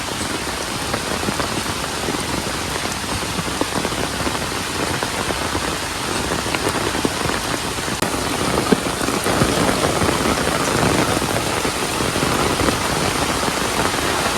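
Steady rain pouring down in a village, a dense continuous hiss of drops hitting surfaces, even and fairly loud throughout with no voices.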